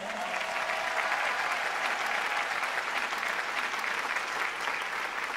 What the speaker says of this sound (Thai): โอเคปรบมือให้คุณเปิ้ลหน่อยครับผม